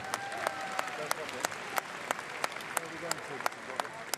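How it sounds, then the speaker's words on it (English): Arena audience at Crufts 2023 applauding at an agility championship presentation, a broad wash of clapping from a large crowd with sharp individual claps standing out at irregular intervals. "Give them a round of applause,"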